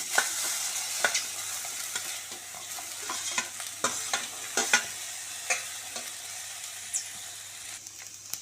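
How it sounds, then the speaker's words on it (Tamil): Boiled broccoli and peas being stir-fried in a pan with oil, a steady sizzle with repeated scraping and clinking strokes of a spatula throughout. "இந்த வேக வச்ச காயை வந்து இதில் போட்டுடலாம்"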